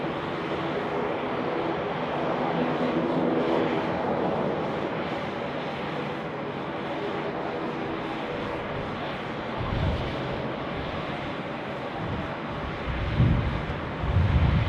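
A jet aircraft takes off from runway 16R at Sydney Airport, a broad sustained roar that swells and rumbles heavier toward the end, heard from a distance with some wind buffeting and no speech.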